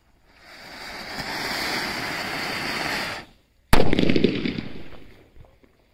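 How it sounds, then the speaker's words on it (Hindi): An anar fountain firecracker burns with a steady loud hissing roar for about three seconds, falls briefly silent, then bursts in a sharp loud blast followed by crackling. "तो अब करते हैं इस अनार की टेस्टिंग और देखते हैं ये कैसा चलता है, पहले चलेगा और फिर लास्ट में शानदार ब्लास्ट होगा"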